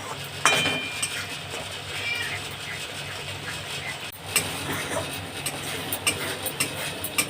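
Spice paste for paneer posto sizzling and being stirred in a pan, with steady frying hiss and scattered clinks of a spoon against the metal, continuous throughout.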